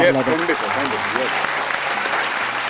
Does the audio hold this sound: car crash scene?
no